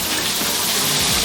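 Water gushes from a Delta shower faucet just turned on, a loud, close, steady rushing spray with no voices.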